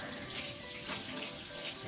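Tap water runs steadily into a sink while a measuring spoon is rinsed, a close, continuous splashing hiss with no pauses.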